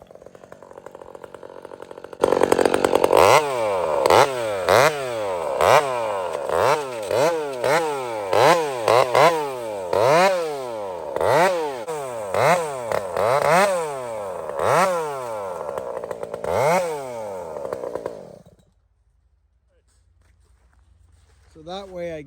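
A power chainsaw cuts through a partly rotten tree for firewood. The engine is loud and close, revving up and down in a steady rhythm of repeated cutting strokes, then cuts out suddenly to near quiet.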